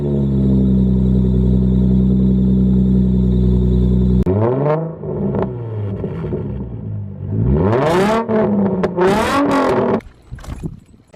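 An Infiniti G35 with a muffler-delete exhaust idles with a loud, steady drone, then revs in several sharp, rising bursts that fall back between each blip, recorded close up with no talking.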